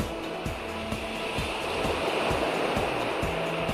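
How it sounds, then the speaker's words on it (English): Steady broadband wash of ocean surf rolls on without a break, with a punchy beat of background music thumping over it. "It sounds like waves to me."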